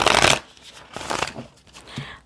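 Moonology Oracle cards being shuffled by hand, several quick riffling bursts with short pauses between, close and moderately loud.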